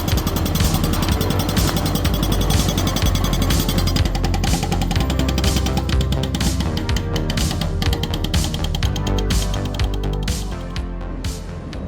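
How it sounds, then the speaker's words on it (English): A hydraulic jackhammer mounted on a skid steer breaks rocks while a trench is dug for power to a farm gate in the Perth Hills. It makes loud, continuous rapid hammering over heavy engine noise, close and without pause. "He's on his skid steer with the jackhammer attached and really working those rocks."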